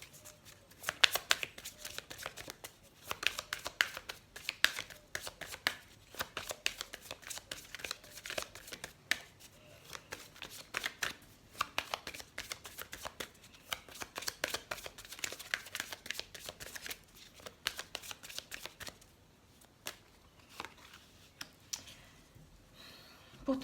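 Tarot cards shuffled by hand in long, steady runs of rapid riffling and flicking, close and fairly quiet, with brief pauses between bursts and no one talking.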